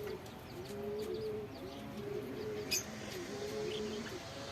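Pigeons coo in soft repeated low calls, steady and rhythmic, with faint background chirps and a quiet outdoor hum.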